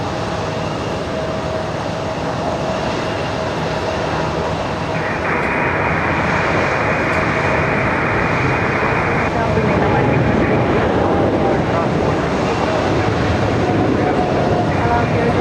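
An Air France jet departs JFK airport, a broad steady jet roar rising and holding loud throughout, with a tonal whine band in the middle, under faint background radio chatter.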